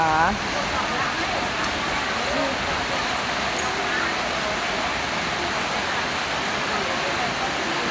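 Steady, fairly loud rain pours down continuously around a sheltered spot, a dense hiss with a few faint vocal sounds near the start.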